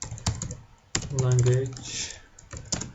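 Typing on a computer keyboard while entering a search in a browser extension page, with quick clustered key taps at the start and end and a person speaking briefly over them in the middle.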